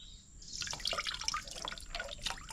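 Water drips and trickles as it is poured off a soaked fishing bait mix, a light uneven splashing that runs steadily for a couple of seconds with no talking.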